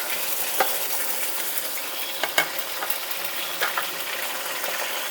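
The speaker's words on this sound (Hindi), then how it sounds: "इसी ऑयल में चिकन डाल दिया।" Chicken pieces frying in hot oil for a green chicken curry, a dense, even sizzle up close with a few soft clicks and stirring knocks, no voices.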